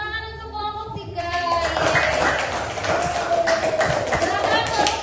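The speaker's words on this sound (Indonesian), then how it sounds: "Iya, tepuk tangan untuk kelompok 3." A classroom group in Indonesia applauds group 3 after their discussion answer, a dense burst of many hands clapping that swells after a quiet second and holds steadily loud, with murmuring voices mixed in.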